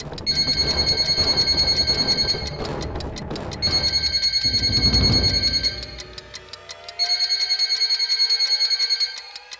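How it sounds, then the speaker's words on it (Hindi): A phone ringtone rings loudly in a tense indoor scene, a bright repeating electronic trill sounding in bursts with a short gap, while low rumbling background sound plays underneath. "आशा है मेरी रिंगटोन नहीं है।"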